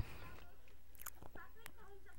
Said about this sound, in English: I'm chewing gum right now